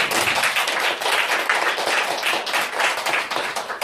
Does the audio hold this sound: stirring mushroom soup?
no